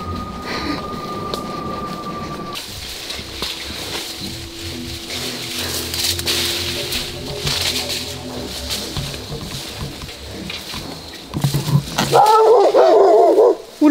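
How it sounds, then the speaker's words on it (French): A dog in a neighbouring garden barks loudly and repeatedly near the end, after a long stretch of rumbling, droning background noise that resembles a passing train. "il y a un chien qui commence à nous aboyer dessus"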